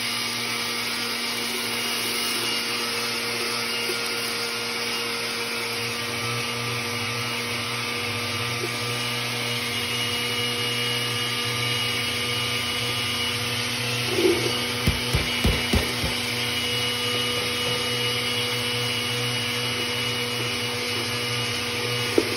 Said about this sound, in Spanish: Voy a agregarle la mitad para molerlos en la licuadora